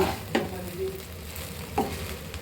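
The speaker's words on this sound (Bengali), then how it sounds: "আমি এখন সয়া সসটা দিয়ে দিই একটু দিয়ে নাড়াচাড়া করে দিই" Fried rice with soy sauce being stirred in a pan: two distinct spatula scrapes over a steady low sizzle, close and moderately loud, with no talking.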